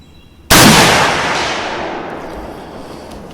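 A Sedgley Krag .30-40 rifle loaded with vintage Winchester Western Silver Tip ammunition fires a single sharp, loud shot, followed by a long rolling echo that fades over several seconds outdoors.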